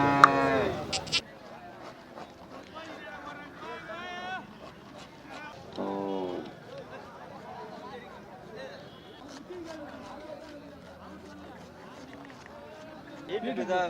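Cart bullocks at the Chettithangal cattle market, with several clear moos, some near and some farther off, heard under steady crowd chatter and people talking close by.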